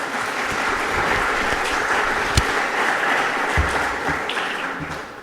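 An audience applauds steadily for several seconds, a dense wash of clapping from many hands that holds fairly even throughout.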